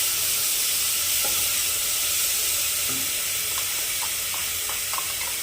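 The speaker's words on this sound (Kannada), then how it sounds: "ಹಾಕ್ಬಿಟ್ಟು ಹಸಿ ವಾಸನೆ ಹೋಗೋವರೆಗೂ ಫ್ರೈ ಮಾಡ್ಕೊಳ್ಳಿ" Onion, ginger and garlic paste frying in a pan gives a loud, even, steady hiss throughout, with faint scattered pops and no talk.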